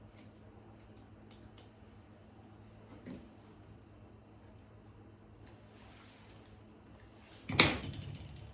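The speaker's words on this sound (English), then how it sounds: "I always like to check where the ear leather is first before I trim it." Scissors make one crisp, close snip through ear leather after a long near-silent stretch broken only by a few faint taps.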